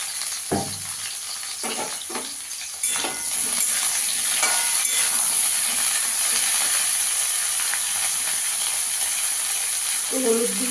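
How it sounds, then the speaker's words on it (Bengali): Eggplant slices hit hot oil with a few sharp drops and clatters, then a sustained bright sizzle takes over and hisses loudly and evenly. The pan sounds close. "বেগুনটা দিয়ে ভেজে নেবো।"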